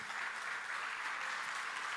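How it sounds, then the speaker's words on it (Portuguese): Church congregation applauding Jesus during a Portuguese-language service, a faint, even wash of many hands clapping heard at a distance, steady and unbroken throughout the short moment. "Vamos aplaudir a Jesus."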